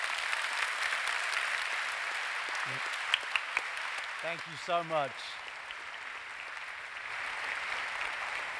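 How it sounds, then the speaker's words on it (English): Audience applause for young delegates of an anti-extremism youth movement and for Kofi Annan at a conference, a steady broad wash of clapping throughout, with a brief voice speaking over it in the middle. "A huge round of applause for the Extremely Together delegates and for Kofi Annan."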